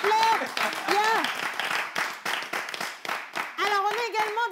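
Studio audience claps for the drummer on a live broadcast, with brisk clapping mixed under a sung or chanted voice carrying clear melodic tones throughout.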